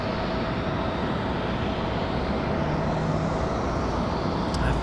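Alaska Airlines jet taking off from runway 23 right at Raleigh-Durham International at night, a steady broadband roar heard from a distance that holds evenly throughout.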